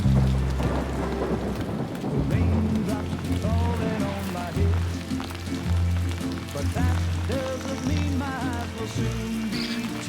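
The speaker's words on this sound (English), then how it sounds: "Raindrops falling" Heavy rain with rumbling thunder in a Death Stranding 2 cinematic, a steady loud downpour under a sung song with music throughout.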